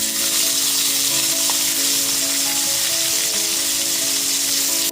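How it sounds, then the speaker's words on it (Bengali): Chopped onion sizzling and frying steadily in a pan over low-to-medium gas flame while making Bengali jackfruit curry, a continuous close hiss with no talk. "পেঁয়াজ কুচিটা দিয়ে দেওয়ার পর খুব ভালো মতো একটু লাল করে ভেজে নেব।"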